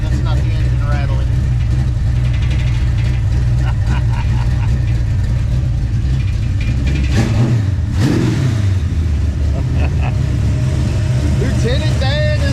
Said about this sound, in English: That's the muffler, guys. That's not the engine rattling.